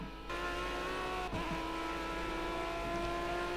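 A race car engine held at full throttle at Watkins Glen in Project CARS, a loud, sustained high-revving drone with one brief dip from a gear change, steady to the end.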